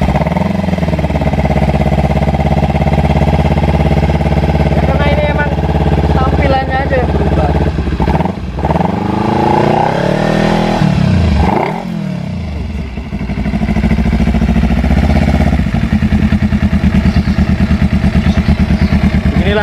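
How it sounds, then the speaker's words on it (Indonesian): A two-cylinder engine from a Kawasaki Z250 converted into a CB-style motorcycle runs loud and close throughout, holding a steady idle with a few throttle blips around the middle. "suara mesin dari motor Z250 ini yang sudah dimodifikasi menjadi motor CB"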